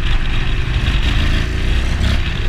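Engine of a 2021 Honda X-ADV 750 scooter revving, a loud, steady low rumble held close by for the whole stretch, with no talk over it.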